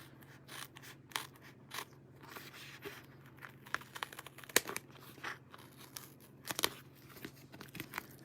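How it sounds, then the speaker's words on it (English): Hand snips trimming card along score lines at a craft table, giving quiet, close crisp snipping and crunching cuts in uneven bursts with soft rustles of paper between them. "I'm just going to use my snips to trim that. So I'm just going to cut along that line."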